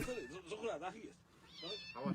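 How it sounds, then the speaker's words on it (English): Distressed cats yowling and caterwauling while someone pulls them apart, with wavering, drawn-out cries in two bursts close to the mic, separated by a brief lull. "I'm not sure why you try and prize cats apart"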